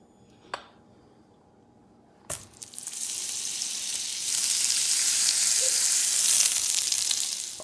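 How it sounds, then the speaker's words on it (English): Butter drops into a hot pan used for searing sea scallops and bursts into a loud, steady sizzle that builds and holds, preceded by a couple of sharp clinks. "now, gonna put in a little bit of butter"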